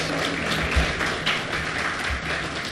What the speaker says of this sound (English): Let's give Brother Rodney a round of applause for his opening remarks.